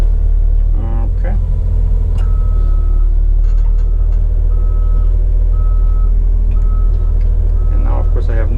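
A Kenworth truck backs up with its trailer, steady evenly spaced reversing beeps sounding over a loud, constant low engine rumble inside the cab, with voices talking at times.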